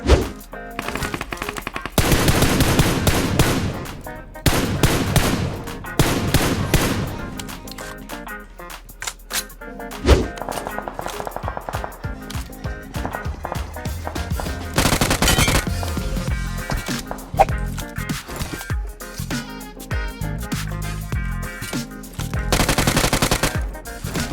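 Loud, close gunfire from the shooter game PUBG Mobile, with long rapid automatic bursts and single shots in dense clusters, separated by short pauses.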